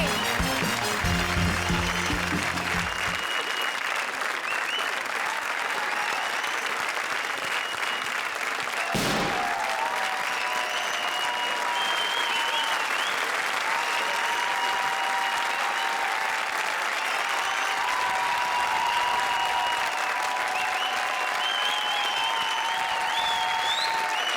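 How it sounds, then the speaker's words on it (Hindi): Studio audience at a comedy show applauding a pair of performers, a steady sustained wash of clapping that runs throughout, with a brief sharp burst partway and a faint musical tone at the start. "जोरदार तालियां राजा और निगार के लिए"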